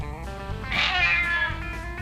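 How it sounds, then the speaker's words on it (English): A cat meows in an old building at the Fort Duncan Medical Center in Eagle Pass, Texas. It gives one clear drawn-out meow, close and fairly loud, over a quiet background. "There's a kitty cat."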